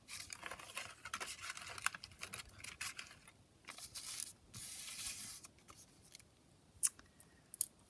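Scissors snip threads off a junk journal kit in a string of quiet, close, irregular cuts and rustles. No one speaks.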